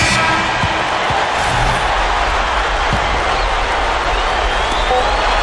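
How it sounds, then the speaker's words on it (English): A basketball arena crowd cheers and applauds after a big clutch shot, a loud steady roar of voices and clapping that fills the whole stretch, with a few faint thuds underneath. "the crowd is loving it"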